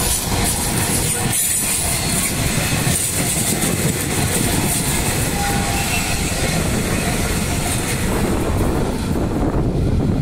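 A metro train in Victoria rumbles past close by, a steady broadband roar with rattling wheels and a faint high squeal partway through, continuous for the whole stretch.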